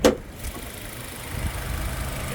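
A 2023 Suzuki Swift GL with its small 1.2 litre engine idles very quietly, a low steady hum running alone and close by after a brief louder onset.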